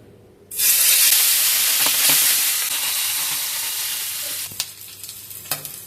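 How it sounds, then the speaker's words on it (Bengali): Small puti fish dropped into hot mustard oil tinted with turmeric bursts into a sudden loud sizzle that holds steady, then eases slightly, with a few sharp pops and clicks near the end; close and with no voices. "তেলটা আমার গরম হয়ে গেছে, এবার এর মধ্যে মাছগুলো দিয়ে দেবো।"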